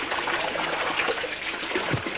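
Hands are washed under running water, a steady close trickle and splash that goes on without a break and with no talking.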